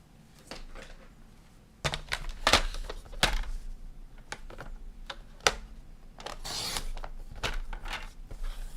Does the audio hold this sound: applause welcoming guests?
no